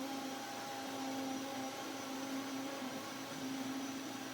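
A kitchen blender runs steadily, whirring a raw dressing with parsley in a continuous, even motor drone at moderate loudness with no pauses or talk.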